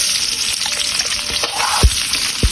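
Garlic and onion sauté in a hot pan with a dense, steady sizzle, broken by a few soft stirring scrapes and taps near the end.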